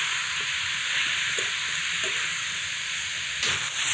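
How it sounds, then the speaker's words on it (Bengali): Winter vegetables and spices are sautéed in a pan, giving a close, steady hiss of frying with faint stirring taps, the sizzle swelling briefly louder near the end. "এখন সব মশলার সাথে সবজিগুলো ভালোভাবে কষিয়ে নেব।"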